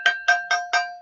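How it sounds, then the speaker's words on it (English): A small metal curry dish is struck like a bell four times in quick, even succession, each strike ringing with a clear metallic tone close by and alone. "This is actually a little dish that I sometimes eat my curries out of."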